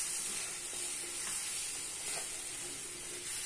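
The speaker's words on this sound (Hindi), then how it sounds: "अब इसको हम ऐसे चलाते जाएंगे आहिस्ता आहिस्ता," Milk being stirred slowly in a kadhai over a medium flame, a steady soft hiss and bubbling sizzle with faint scraping strokes, continuous and close, no talking.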